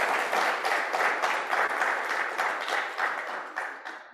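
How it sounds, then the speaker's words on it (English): An audience at a business and money conference breaks into sustained applause, with dense clapping from many hands that holds steady and then gradually fades toward the end. "Let's give a round of applause for that one"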